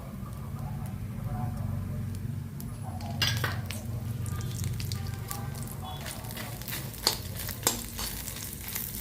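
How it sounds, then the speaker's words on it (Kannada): Dry red chillies fry in a little oil in a pan, a steady low sizzle with sharp clinks and scrapes of a utensil against the pan toward the end. "ಈಗ ಒಣ ಮೆಣಸಿನ್ಕಾಯಿನೂ ಇದರಲ್ಲೇ ಹಾಕೋಣ ಸ್ವಲ್ಪ ಎಣ್ಣೆ"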